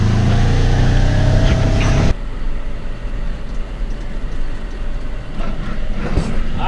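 A John Deere-style 6120 farm tractor engine runs steadily, loud and close at first, then drops to a lower, rougher drone after about two seconds as it keeps rumbling on through the rest of the clip.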